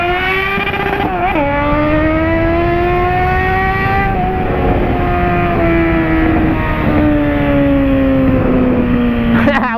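Suzuki Bandit 650 motorcycle engine revving hard through first and second gear, a loud rising whine that climbs, drops at a gear change, then stretches out again, close and continuous.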